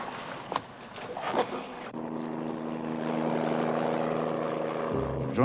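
A helicopter flies over flat Mississippi lowlands with a steady rotor and engine drone. It is faint at first under a few soft knocks, then grows louder and more sustained before a brief shift near the end.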